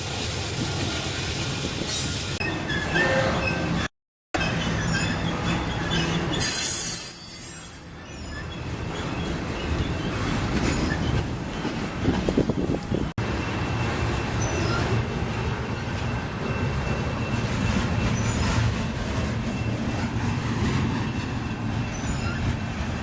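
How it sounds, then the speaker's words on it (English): A northbound intermodal freight train with a single AC44 locomotive leading rolls past close by, a loud continuous roar of wheels and railcars with clattering and brief squeals, no voices. "This train was I-150, a northbound intermodal from North Baltimore, Ohio to Detroit, Michigan,"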